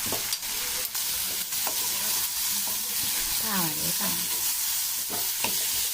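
Brinjal (eggplant) sizzling steadily as it fries in a pan, with intermittent scraping and stirring clatters of a spatula over the continuous close, bright frying hiss.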